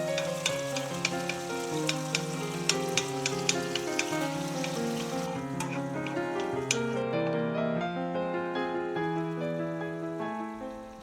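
Chopped tomato paste is stir-fried in a pan with garlic slices and bacon, giving a dense continuous sizzle with crackling pops, under steady background music.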